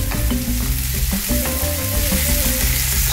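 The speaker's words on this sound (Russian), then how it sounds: "Обжариваем лук." Onions fry in olive oil in a pan with a steady, loud sizzle and crackle, joined by faint stirring scrapes throughout, no voices.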